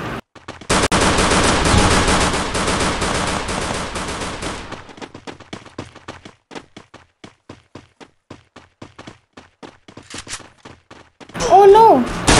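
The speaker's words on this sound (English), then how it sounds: "They are shooting me!" Rapid automatic gunfire in the Free Fire Clash Squad mode on the Bermuda Remastered map, with a dense loud burst of shots followed by sparser quick bursts of rounds that fade, and a brief voice near the end.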